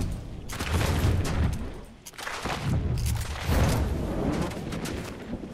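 Silenced gun in the Fortnite video game during a ranked solo zero build match, a few rounds of fast, muffled bursts separated by short pauses, loud and close, with no voices.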